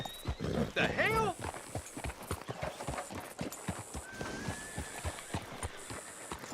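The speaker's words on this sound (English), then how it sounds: "Hitch your horse up here." Horse hooves clip-clop steadily on the ground in Red Dead Redemption 2, a brief whinny and loud hoofbeats early on, then a regular trotting rhythm continuing under quieter game ambience.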